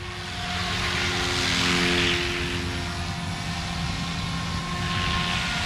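An RC helicopter, a Goosky RS4 or Goblin RAW 420, hovers at the lower idle-up-one head speed, giving a steady loud whirring rotor hum with sustained tonal whine throughout, no voices present.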